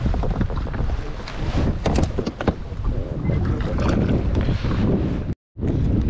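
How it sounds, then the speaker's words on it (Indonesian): Strong wind at sea buffets a fishing kayak off Melaka, a loud, steady roar of microphone-battering gusts with one brief dropout near the end. "Guys, angin kuat, guys."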